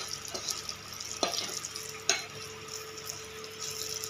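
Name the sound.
green chillies and turmeric frying in a pan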